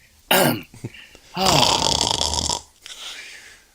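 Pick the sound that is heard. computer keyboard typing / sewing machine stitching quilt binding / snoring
snoring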